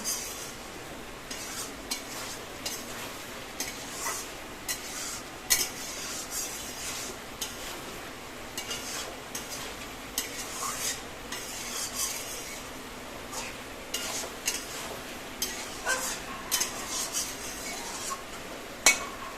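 A spoon scrapes and stirs rohu fish curry with raw pumpkin and spices in a pan, giving irregular rasping strokes and metallic clinks over a faint background sizzle, with no talking.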